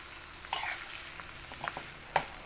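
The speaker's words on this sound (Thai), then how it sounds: "พอพริกแกงอันนี้เราก็เอาปลาหมึกใส่ลงไปเลย" Squid stirred in frying Thai red curry paste in a pan, a faint steady sizzle with a few soft scraping clicks of the utensil, close up and without voices.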